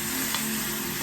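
Chilies sizzle in hot oil with a dense, steady crackling hiss that stays close and even throughout the short moment, with no voices.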